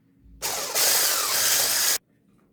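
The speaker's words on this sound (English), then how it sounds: "now I'm going to do it with the mixer" An electric mixer whirs through Paris-Brest cream filling, starting abruptly at moderate level, rising to a steady, loud broadband whine for over a second, then cutting off cleanly into near silence.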